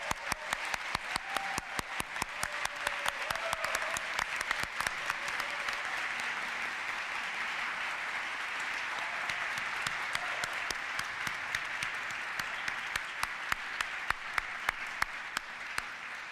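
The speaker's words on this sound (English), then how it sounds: "there's going to be cheering right now" Sustained applause and cheering from a large crowd at a 2021 university commencement ceremony for graduates, with dense rapid clapping holding steady throughout at moderate level and no talking.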